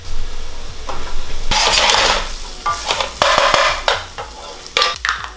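Scallion bottoms sizzle and crackle in a hot pan for a tofu dish, with steady frying hiss broken by repeated stirring scrapes and bursts, close and fairly loud throughout.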